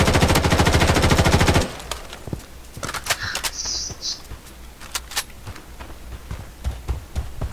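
Gunfire in the mobile shooter game Blood Strike: a loud, rapid automatic burst for the first second and a half, then scattered single shots and distant impacts under game effects.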